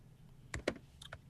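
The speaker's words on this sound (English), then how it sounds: "Everyone gets to see how sloppy I type now." A few quiet, scattered clicks of typing on a computer keyboard, soft and close with short gaps between the keystrokes.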